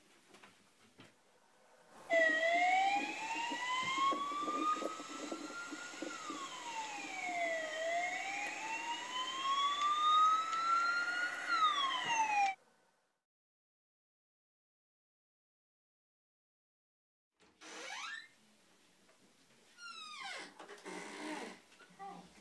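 A Danish ambulance siren wails loud and close for about ten seconds, its pitch rising and falling. After a silent gap, other short sounds follow.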